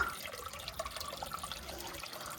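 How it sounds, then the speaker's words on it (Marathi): A small natural spring trickles inside a cave behind a tunnel shrine in the Konkan region during summer, a steady, close watery babble with no speech. "एवढ्या उन्हाळ्यात पण हा झरा आहे"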